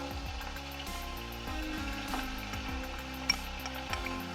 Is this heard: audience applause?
no